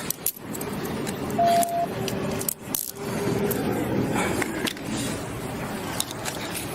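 Keys jangle and rattle in a loud, scuffling tussle during a police arrest, with metallic clinks and scraping scattered across several seconds and brief muffled voices.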